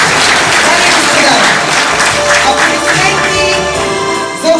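Applause for the organizers at an evening exhibition and film screening held by a Bulgarian-Arab cultural center, a loud sustained clapping crowd with a voice speaking over it throughout.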